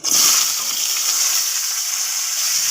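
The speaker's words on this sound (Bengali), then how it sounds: "তেল দিয়ে দিয়েছি সরষার তেল তোমরা সরষার তেলে টক করলেই ভালো লাগে এবার আমি দিয়ে দিচ্ছি পাঁচ ফোড়ন দিয়েই আমি দিয়ে দিচ্ছি ওলকপি" Kohlrabi frying in hot mustard oil with panch phoron gives a steady, loud close-up sizzle with a bright hiss that holds evenly throughout, no voices.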